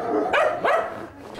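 Service dogs at a kennel give two quick, close barks in succession, each one sharp and slightly whiny, with no other sound behind them.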